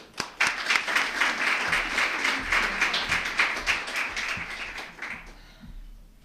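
An audience claps steadily to welcome speaker Julie Cole at a business talk, with dense and fairly close applause that holds for about five seconds before thinning out and stopping.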